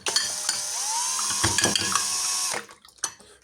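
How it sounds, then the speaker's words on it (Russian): A peroxide and salt mixture being stirred, a steady wet churning and scraping with a few sharp clinks, continuous for most of the time before trailing off into faint scattered knocks. "Перемешиваем."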